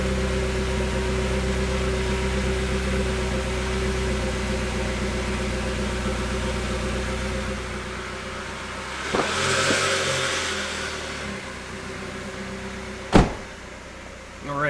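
Idling Nissan Versa rental car with a 1.6 liter 4-cylinder engine, a steady low hum that swells in a brief rev near the end, with a sharp click and faint rustle standing out over the drone.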